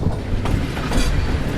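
A moving train is heard from beside an open carriage door near Gazipur: dense rumbling wheels and rattling carriage noise with rushing air, continuous and close.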